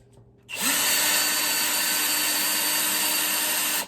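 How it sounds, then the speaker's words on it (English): A cordless drill whirs up sharply and runs at a steady high pitch for a few seconds while drilling holes in plant pots for potting tomatoes, loud and close. "I got my drill charged up a little bit, enough to do the job"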